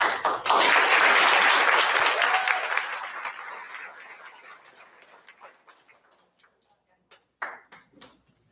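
Applause for students at a fifth grade awards ceremony, a loud burst of clapping from a crowd that gradually thins and fades, with a few scattered claps near the end.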